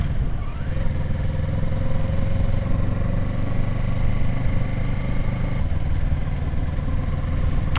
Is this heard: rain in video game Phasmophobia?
no